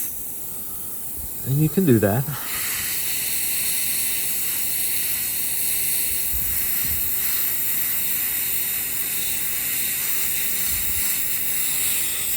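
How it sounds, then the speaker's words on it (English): A steady airbrush hiss runs continuously through the clip after a short spoken phrase at the start, sputtering slightly through a clog while painting a miniature but holding a constant airy spray. "sometimes you just kind of have to spray through it when you get a clog,"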